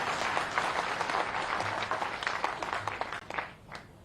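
Audience applause at a Bharatiya Janata Party political speech, a dense burst of clapping from a large crowd that holds steady and then thins out toward the end.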